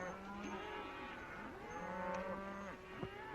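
Cattle lowing in a long, drawn-out moo that rises and falls, then a second bellow, moderately close against a quiet outdoor background with no talk.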